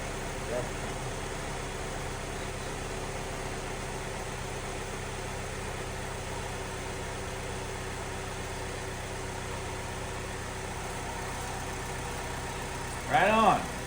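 Steady low hum of a 2012 Chevy Malibu's GM Ecotec engine idling smoothly after a timing chain replacement, even and unbroken, with a brief louder clatter near the end.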